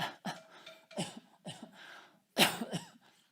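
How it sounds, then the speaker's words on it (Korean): A series of harsh, wet coughs in quick bursts, close to the microphone, with short gaps and breaths between them and no talking. "제가 지금 기침하고 있는데"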